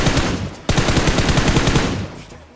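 An MG3 machine gun fires in a battle royale video game, a loud, rapid, continuous burst with a brief break, then a steady stream of shots that tapers off at the end.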